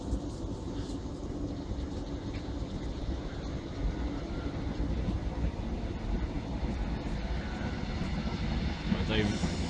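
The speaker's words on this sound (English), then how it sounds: "now departing is the train 1029 service" A train pulls out of Stowmarket station on the service to Witham and Norwich, giving a continuous low rumble and rolling noise that stays steady throughout, with someone speaking over it.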